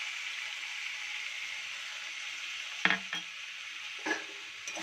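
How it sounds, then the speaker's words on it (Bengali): Chicken and sauce stirred in a sizzling frying pan, a steady frying hiss with a few sharp utensil scrapes against the pan near the end; no talking. "সসটা দিয়ে আবার কিছুক্ষণ নাড়িয়ে নেব"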